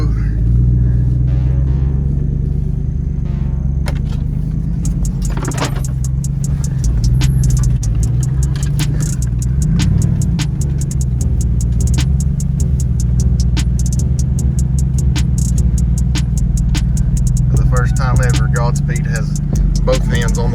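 Jeep Wrangler JL Rubicon 392 crawling slowly off-road in 4 low, a steady low engine rumble running throughout with clicks and rattles over the top, close by.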